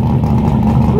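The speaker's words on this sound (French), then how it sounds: "Regardez-moi cet AC Cobra, ou écoutez plutôt." An AC Cobra's engine roars steadily nearby at a track event, a loud, continuous throaty drone with a slight rise in pitch, crowd noise and voices underneath.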